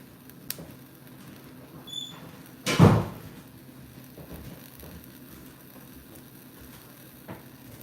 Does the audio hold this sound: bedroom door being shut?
yes